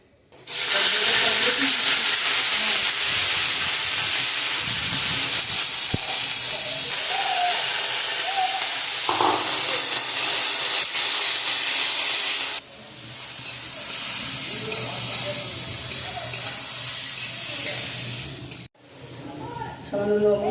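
Mustard seeds sizzle and crackle loudly in hot oil in a kadai while chutney is made, a steady hissing fry that drops in level partway through and briefly cuts out near the end.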